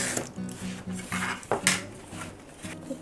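A knife cuts through display-case lining material from the back, making a series of short scraping, slicing strokes in an even rhythm, close and moderately loud with no talk.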